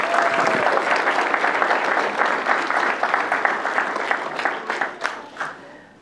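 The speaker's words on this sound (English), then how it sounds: "So I want you all to give a big round of applause" Wedding guests applaud together in a full burst of clapping that gradually breaks up into a few scattered, distinct claps before dying away.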